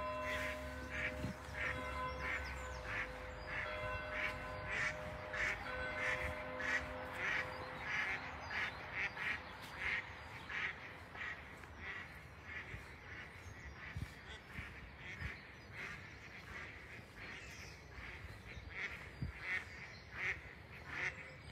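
Ducks quacking along the water's edge in a classified natural park at Saint-Savin, repeated rhythmic quacks at moderate distance, fairly faint, with a low hum fading early on.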